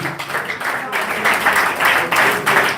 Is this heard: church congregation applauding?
yes